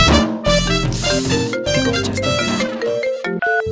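A mobile phone ringtone plays a loud, bright electronic melody of repeating notes for nearly four seconds, with no voices over it.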